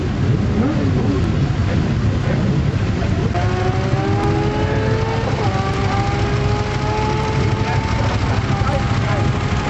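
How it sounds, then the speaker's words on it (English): A Ducati 1098 motorcycle at a drag race in Cork roars loud and close, its engine note climbing through rising revs against a steady background rumble. "Lovely 1098 Ducati."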